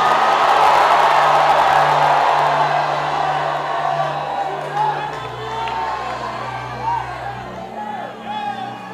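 Congregation at a Brazilian church service shouting loudly together in one sustained roar that slowly tapers off, with a preacher's voice carrying over the crowd.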